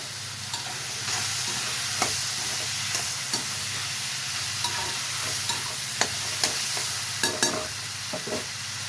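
Rock salt and turmeric stirred into a sizzling dried fish curry base in a village kitchen, steady frying hiss with regular scraping strokes of a spoon against the pan, close and even.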